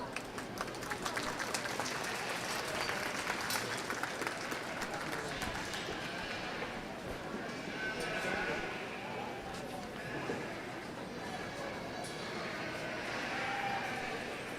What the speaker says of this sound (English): But let's give these guys a big round of applause.